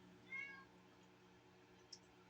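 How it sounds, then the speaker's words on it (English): A cat gives one faint, brief meow in the background of a quiet room where craft tools are being tested, followed by a soft click a moment later. "You can hear my cat in the background, I think."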